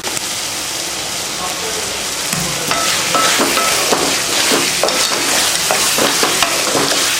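Bottle gourd, dried fish and tomato sauté in a pan over low heat, giving a steady, close sizzle with scattered crackles and the scrape of stirring throughout, no voices over it.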